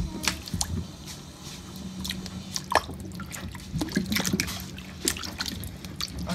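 Oranges and other fruit are washed under running water, with wet squishing, rubbing and irregular drips and splashes close by over a soft trickle.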